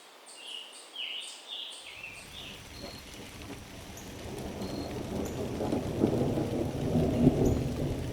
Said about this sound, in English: Rain is moving in.